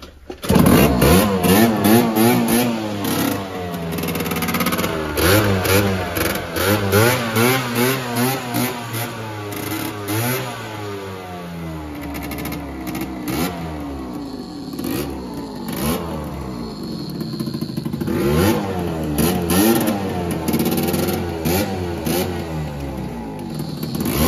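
A scooter's small two-stroke engine starts and revs repeatedly, close and loud, its pitch climbing and falling through a long run of throttle blips with some idling between, and no one talking.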